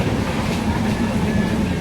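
A steady, loud rumble of a crowded train's general coach rattling along the tracks, continuous throughout with a faint clatter underneath.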